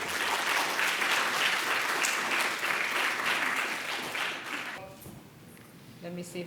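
Conference audience applauding to welcome a panelist to the stage, a loud sustained round of clapping for about five seconds that fades out, followed by faint voices as the speaker begins.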